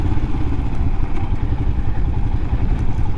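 Royal Enfield Himalayan and KLR650 motorcycles cruise toward the remote Gold Butte Townsite, a steady, loud low engine drone with rattling clatter running unbroken throughout.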